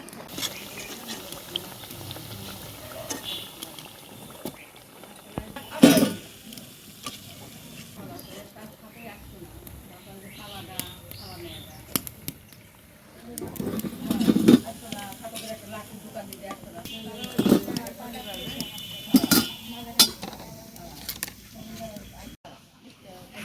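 Lentil fritters (bora) frying in hot oil in a home village kitchen for iftar: a steady soft sizzle runs throughout, broken by clinks and stirring knocks, with a person talking at times.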